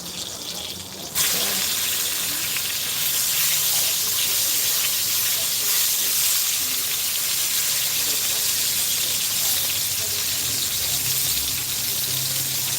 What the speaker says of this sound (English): Searing all those sides and getting really good color on that.